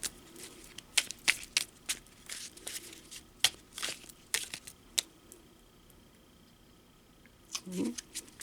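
Rune cards being shuffled, producing scattered soft flicks and crisp snaps at an irregular pace, fairly quiet and close, broken up by short pauses while a person talks in between.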